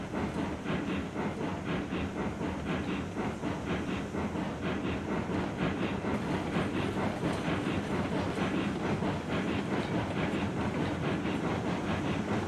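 A locomotive in Railroads Online hauls a long train of oil tankers with the engine pushing from the back, giving a loud, continuous rumble with steady rhythmic clickety-clack of wheels on rail joints.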